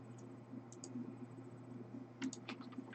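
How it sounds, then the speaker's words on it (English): A puppy treading on a computer keyboard, producing a few soft, scattered key clicks in quick bursts, close but faint over a low steady hum. "Don't touch my keyboard."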